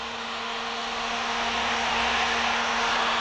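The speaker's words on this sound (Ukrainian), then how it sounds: "беремо фен, повне нагрівання." A hair dryer blows steadily at full heat and power onto a wooden board, a loud continuous whoosh with a faint whine, no voices.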